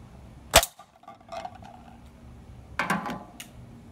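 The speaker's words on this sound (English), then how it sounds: "And I'm gonna just shoot one BB up close." One BB gun shot fired up close, a single sharp crack followed by rattling impacts and clatter a couple of seconds later.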